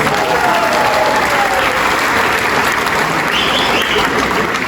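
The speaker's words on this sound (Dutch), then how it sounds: "een geweldig applaus." A carnival evening crowd bursts into loud, dense applause, many hands clapping continuously with some cheering mixed in, filling the hall evenly throughout.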